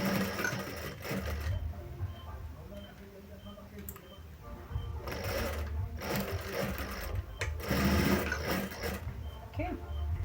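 A sewing machine runs in steady stitching bursts while a sling bag is sewn close to the squared seam, with brief pauses between runs and a person talking softly over the motor.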